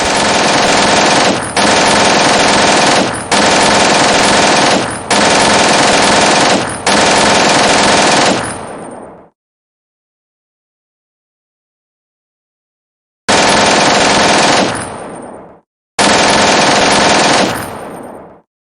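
Loud machine gun fire in the WinSPWW2 war game, several long sustained bursts back to back, then a silent gap followed by two shorter bursts, each trailing off sharply.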